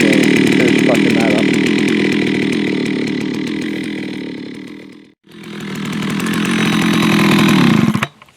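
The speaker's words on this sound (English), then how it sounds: "So it's idling really nice and it's cutting well." A vintage 1970s Jonsered 801 chainsaw revving hard and cutting wood, a loud, buzzing two-stroke roar that briefly drops off near the middle, then surges again before cutting out at the end.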